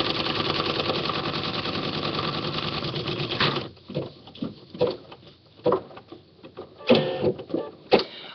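An embroidery machine stitches lines onto paper with a rapid, steady mechanical whir and patter for several seconds, then stops and gives way to quiet scattered clicks and handling noises.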